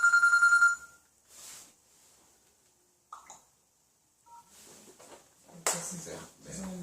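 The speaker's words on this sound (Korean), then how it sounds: "전화가 왔네요" A telephone rings with a short, bright electronic trill at the start, followed by quiet handling noises, faint clicks and brief murmured speech as the call is dealt with.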